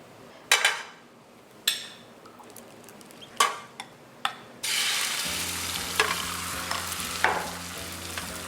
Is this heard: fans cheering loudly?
no